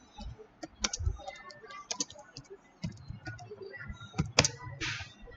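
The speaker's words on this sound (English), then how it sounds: "Now we can keep on typing." Typing on a computer keyboard while working in a word processor, a run of irregular close key clicks with short pauses between bursts, fairly quiet and mostly alone.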